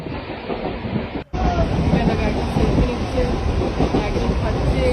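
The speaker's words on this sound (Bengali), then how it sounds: "এখন আমরা ট্রেনে আছি দমদম।" A moving local train near Dum Dum, Kolkata, heard from inside the coach as a loud steady rumble with a brief dropout near the start. Voices talk over the noise.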